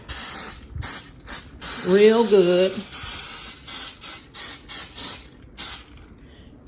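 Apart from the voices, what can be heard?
spraying a tray so fruit leather won't stick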